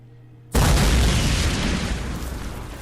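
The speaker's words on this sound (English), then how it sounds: "Now I can see the cannon." A single loud cannon shot from the Sherlock Holmes Nemesis game. After a quiet moment it bursts out abruptly, then fades in a long rumbling tail.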